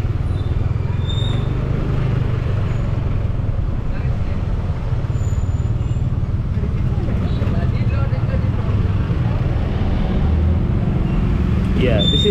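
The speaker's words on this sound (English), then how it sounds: "the road is so small and there is a lot of cars, they just parking everywhere" Cars jammed on a narrow, crowded street in Seminyak, Bali: a dense, steady rumble of idling and crawling engines close by, with a few brief higher hisses and toots over it, while a voice talks throughout.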